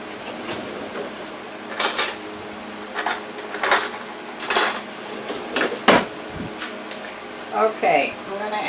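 A clean metal spoon scooping garlic paste from a jar, with several sharp clinks and scrapes against the glass, close and fairly loud, and voices faintly in the background.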